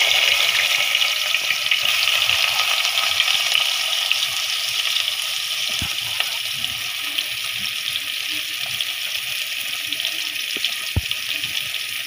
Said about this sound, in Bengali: গরম হয়ে গেছে, আমরা এখন এখানে মধ্যে দিয়ে দিচ্ছে হলো যে পেঁয়াজ।